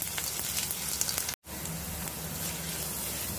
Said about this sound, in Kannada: ಬೆಳ್ಳುಳ್ಳಿ ಒಂದು ಸ್ವಲ್ಪ ಕೆಂಪುವಾಗೋವರೆಗೂ ಒಗ್ಗರಣೆ ಮಾಡಿಕೊಂಡ್ರೆ ಇಷ್ಟೇ ಸಾಕು